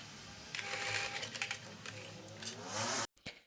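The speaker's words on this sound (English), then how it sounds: "And then arriving at the other end, stop sewing 1 centimeter away from the edge." A sewing machine stitching a seam on a drop-waist Basque skirt, a fast steady whirring run close by that stops abruptly, followed by a couple of brief clicks as it halts.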